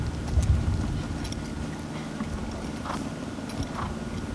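Dressage horse hooves thud softly on arena footing during schooling work, a few muffled, fairly distant beats under a steady background hum.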